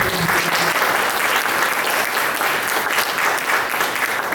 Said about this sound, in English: if we would all give a nice round of applause to our 3 candidates